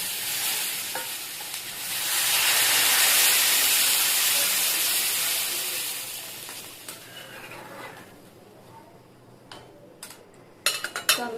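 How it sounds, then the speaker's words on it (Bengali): Water poured into a hot pan of frying potato vegetable curry sets off a loud, steady hiss of steam and sizzle that swells, then gradually dies down, ending with a few sharp utensil clicks. "এবার আমি জল ধরে দেবো।"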